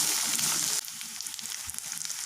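Boiled egg bhurji frying in a pan, a loud hiss that drops abruptly to a quieter crackling sizzle with light stirring scrapes, close, no voices.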